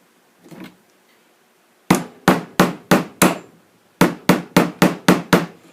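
A hammer taps track nails into wood while installing remote switch throws: one soft knock, then two quick runs of five sharp evenly spaced blows, close and loud, with no talk.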